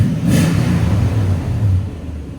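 A 2003 Toyota Tundra 4.7L V8 with a Borla ProXS exhaust and the muffler and tailpipe cut off, idling with a deep, steady, loud low rumble heard nearby, without talking.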